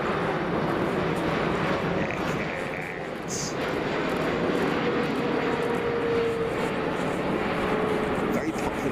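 A jumbo jet at Frankfurt Airport roars steadily as a broad, continuous rumble that fills the whole stretch, loud with wind-like rushing and slight swells.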